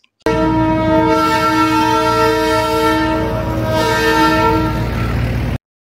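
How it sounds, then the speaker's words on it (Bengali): Darjeeling Himalayan Railway toy train sounding its horn at Ghum station, a loud sustained harmonic blast held for several seconds, close by and steady before cutting off. "আমাদের প্রিয় টয় ট্রেন।"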